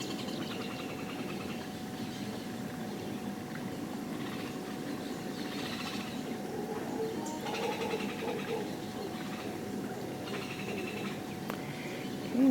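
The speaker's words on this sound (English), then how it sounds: "Those are howler monkeys off in the distance." Howler monkeys calling far off in the distance, a low droning roar that rises and falls under steady ambient background sound.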